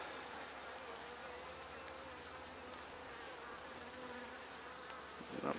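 Honey bees buzz faintly on a capped honeycomb frame during a fall honey harvest, a steady insect drone with a thin high whine and no talk over it.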